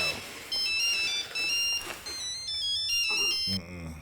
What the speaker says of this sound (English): that was her phone.